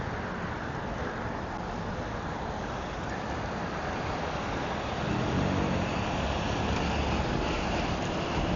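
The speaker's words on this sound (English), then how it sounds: "I got a high wind blowing against me right now." Strong headwind buffeting a rider on an Ozark Trail gravel bike, a continuous loud roar of wind noise across the whole stretch, swelling slightly toward the end, with no talk.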